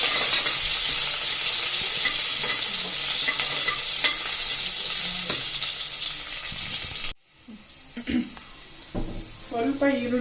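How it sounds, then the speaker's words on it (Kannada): Onion and mint tempering sizzling in hot oil for a mutton dish, a loud steady frying hiss for about seven seconds before it cuts to quieter stirring and clinks of a spoon in the pan. "ಒಗ್ಗರಣೆ ಮಾಡ್ತಾ ಇದ್ದೀನಿ."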